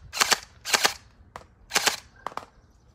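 Gel blaster toy gun firing in bursts: four short, sharp snapping volleys, each a quick double or triple pop, spaced out across a few seconds, fairly close with no talking.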